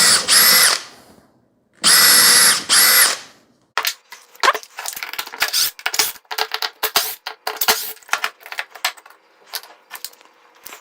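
A power drill bores pilot holes in wood for a table saw push block, with two long high-pitched whirring runs followed by clattering bits, clicks and jangling handling noises.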